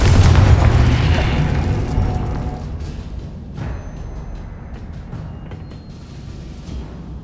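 A Confringo explosion spell goes off in Hogwarts Legacy with a loud, deep boom right at the start, then fades into a long rumbling decay with a few faint crackles afterward.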